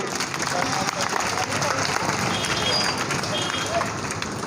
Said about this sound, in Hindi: जोरदार तालियां दे तालिए।